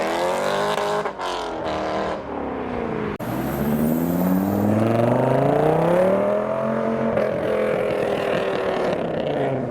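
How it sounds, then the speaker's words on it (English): A C5 Corvette at an American car show passes close and loud, its engine note climbing and falling as it revs and accelerates, with a sharp squeal near the start. "we've got a C5 Corvette"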